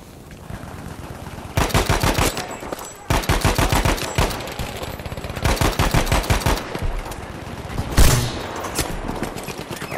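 Automatic gunfire in the video game Battlefield 5, several rapid bursts of loud, close shots in quick rhythmic succession, broken by short pauses, ending with a heavier single blast.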